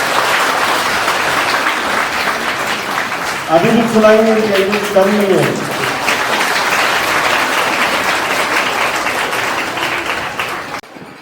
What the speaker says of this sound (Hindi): जोरदार ताली पे